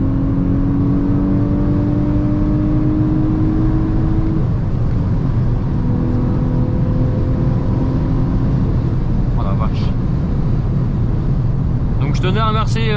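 Volkswagen Golf 6 R engine pulling hard in fourth gear from about 3000 rpm, a loud in-cabin drone and rising whine, with someone talking in French over it and chatter near the end.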